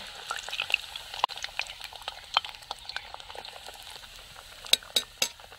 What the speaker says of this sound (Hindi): बहुत ही धीमी धीमी आंच में मैंने देखिए पका रही हूँ।